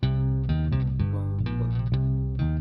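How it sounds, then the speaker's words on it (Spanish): Digital MIDI bass line with a buzzy, effected tone, playing a steady run of short repeated notes that change pitch every half second or so, loud and alone with no talking. "Entonces, de hecho, el bajo con esta parte suena así."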